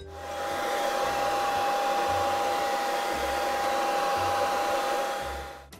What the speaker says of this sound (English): you've got to make sure your hairdryer is on the lowest setting and the hottest setting.